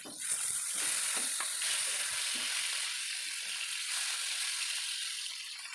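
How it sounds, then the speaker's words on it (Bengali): Rohu fish frying in oil in a pan, a steady close sizzle with soft crackles and a few small clinks, continuous throughout with no talking. "যতক্ষণ না একদম ব্রাউন হয়ে যাচ্ছে এক অপর পাশ, ততক্ষণ আমি ভেজে নিব এবং ভেজে নেওয়া হয়ে গেলে আমি উল্টে নিব।"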